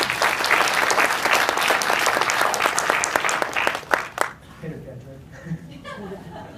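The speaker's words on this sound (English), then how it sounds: "applause for Andres Parra." Dense audience applause with many sharp individual claps fills the room, loud and sustained for about four seconds before breaking off into scattered claps and quieter murmuring.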